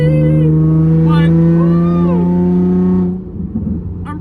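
A Rocket Bunny Nissan 350Z's engine drones loud and close in a steady low tone with rising and falling pitch, dropping off abruptly near the end while a voice speaks over it.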